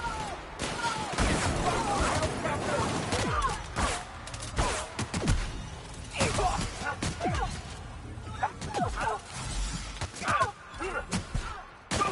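Gunfire in The Outer Worlds, repeated sharp shots and bursts that come in uneven clusters across a busy firefight, close and loud, with voices shouting between them.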